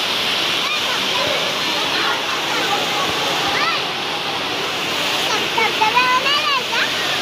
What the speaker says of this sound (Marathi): भरपूर जोरात पाऊस आलाय